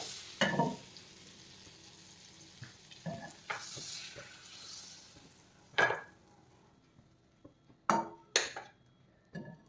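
Butter melting in hot oil in a pan for paneer butter masala, a soft continuous sizzle broken by intermittent clinks and scrapes of a utensil, fairly quiet and close.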